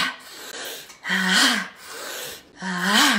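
Breath sounds from a deep breathing exercise, three loud rushing breaths in a steady rhythm with short pauses between, close and alone, some carrying a faint voiced groan.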